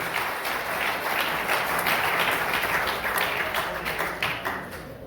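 A church congregation claps for the Lord during a Spanish-language service, a dense, continuous round of hand clapping at moderate volume that softens near the end.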